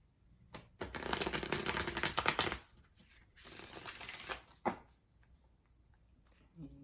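A Cosmic Tarot card deck is shuffled up close in two long riffling bursts of rapid papery flutter, with a few short card snaps and taps between and after.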